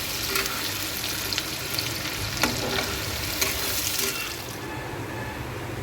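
Onions frying in a pan for a Bengali chicken dish, a steady close sizzle with occasional stirring clicks and scrapes, no talking.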